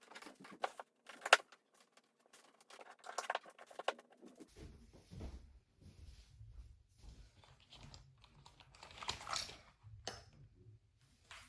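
Scattered, faint key clicks come from typing on a Techwear Phantom Plus Elite 87-key keyboard, in sparse irregular bursts over a low background rumble.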